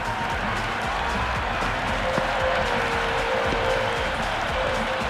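Stadium crowd in the Cricket 26 video game applauding a six in an IPL match between Punjab Kings and Gujarat Titans: a steady, dense wash of clapping and cheering that holds evenly throughout, with no one speaking over it.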